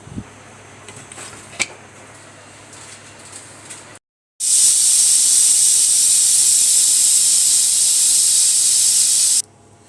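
After some quiet kitchen clatter and a short silence, a pressure cooker cooking aloo keema releases a loud, continuous, sharp hiss of steam lasting several seconds before cutting off.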